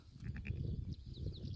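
Sheep being driven home bleat in a quick cluster of short, faint calls close together, followed by a low rustling murmur of the flock.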